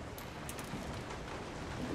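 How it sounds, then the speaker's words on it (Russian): Steady rain falls in Resident Evil 7 as night comes on, a constant close hiss of rain on surfaces with faint bird-like chirps scattered through it. "Пошел дождь."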